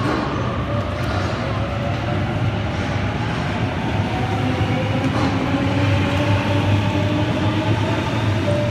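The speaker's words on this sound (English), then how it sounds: "Waratah set 8:54, now departing platform number 2, Reeves Beach service" A Sydney Waratah electric train departs a platform at Wolli Creek station, a loud, close, continuous rumble with rising motor whine as it gathers speed.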